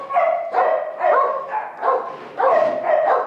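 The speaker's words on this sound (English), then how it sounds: "Patches is an Australian cattle dog mix" An Australian cattle dog mix barking repeatedly in a steady rhythm, about seven close, moderately loud barks with no talk over them.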